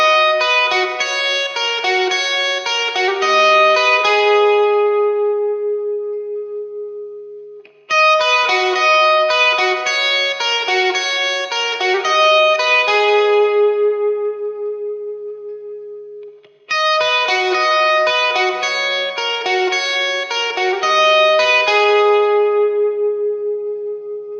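Overdriven electric guitar through a Plexi amp plays a ringing arpeggio phrase three times, each note sustaining under hall reverb, loud and alone, with brief gaps between repeats.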